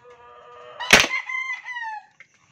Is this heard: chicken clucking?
yes